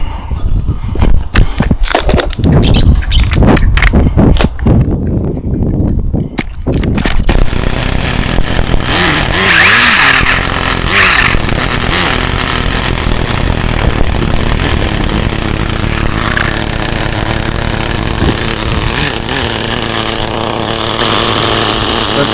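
The small nitro engine of a Condor Pro RC buggy sputters and pops in short bursts, then catches and runs as a loud, buzzing, high-revving whine that holds steady and wavers in pitch.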